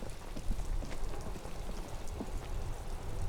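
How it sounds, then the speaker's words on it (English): Steady rain falling in the video game Disco Elysium, a continuous soft hiss of drops spread evenly with no break, heard on its own without voices. "Sounds like it's raining,"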